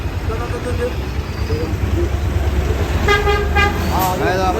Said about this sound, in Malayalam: ഇതാണ് ബസ് ഇതാണ് ആ ബസ്സാണ് നിർത്താതെ